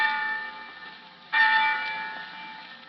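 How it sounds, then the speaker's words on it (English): Church-style bells ring out from college towers, a sustained resonant toll that fades and is then renewed by a louder fresh strike partway through, with no voices. "the bells of our colleges will be calling to young America"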